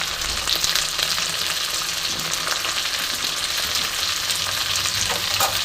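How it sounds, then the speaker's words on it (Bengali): Raw garden pumpkin and potato pieces fry in a hot pan, a continuous bright sizzle with occasional stirring scrapes and small pops, close and steady. "এবার আমি ভালো মতন এটাকে ভাজবো। কিছুক্ষণ আমি ভেজে নেব।"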